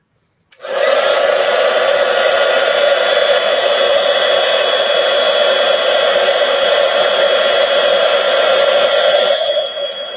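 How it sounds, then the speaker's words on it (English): A heat embossing tool blows a loud, steady, hair-dryer-like rush of hot air over embossing powder on a Christmas card. It starts suddenly and runs for about nine seconds before easing off. "I'll bring in my heat tool and we will heat that one up"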